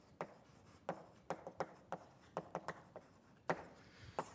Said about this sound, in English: And I'm going to draw a little chart here.